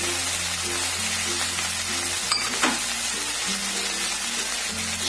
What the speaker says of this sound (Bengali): জল দিয়ে এটাকে একটু ভাজা হয়ে যাবে